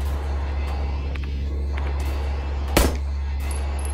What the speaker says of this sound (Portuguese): Não, gastamos um tiro